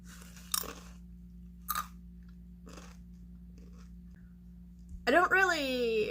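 Crunchy crackers being chewed close to the ear, three or four sharp crisp bites spaced about a second apart over a steady low hum, followed by a short burst of voice.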